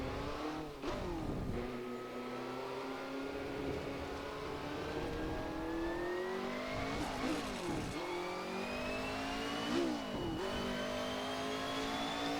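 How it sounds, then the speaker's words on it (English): Jordan 191 racing car with a Ford V8, in a racing game, revs up and pulls away through the gears, its rising engine note steady and close with brief drops at each shift. "that Ford V8 making a very nice noise, I must say"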